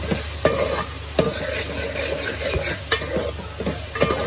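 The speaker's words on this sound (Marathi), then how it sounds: "हिरवी मिरची आणि कोथिंबीरची पेस्ट केली आहे, ती ऍड करते." A green chili and coriander paste sizzles in a frying pan, a steady hiss under repeated scraping stirs that come every second or so, close and fairly loud with no voices.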